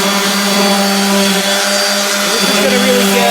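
A power sander with 80 grit paper works a guitar headstock, giving a loud, steady motor whine and abrasive hiss that holds throughout.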